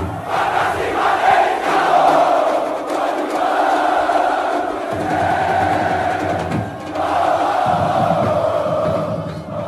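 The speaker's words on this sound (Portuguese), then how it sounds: "Roda pra gente ver a torcida do CRB dando um verdadeiro show." Massed CRB football supporters chant loudly and continuously inside a packed stadium, a dense roaring wall of voices that swells and dips in rhythmic waves, with no single speaker standing out.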